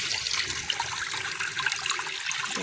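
Water from a motor pump gushes steadily where village women wash clothes outdoors, a constant loud hiss and splash with no break.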